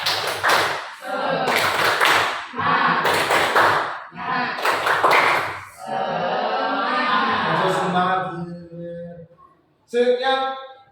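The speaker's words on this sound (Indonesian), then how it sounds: "Yuk, tepuk semangat" A group performs a rhythmic clapping chant, tepuk semangat, in bursts of loud claps separated by short pauses, with voices chanting along between and over the clapping.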